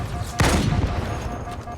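Gunfire in the Halo 2 Anniversary video game: a loud, dense burst of shots hits early, then trails into a rumbling, sustained clatter of battle noise that slowly fades.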